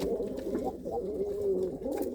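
A mated pair of long-flying loft pigeons coo together up close, a continuous warbling rumble that wavers and overlaps without a break, free of speech.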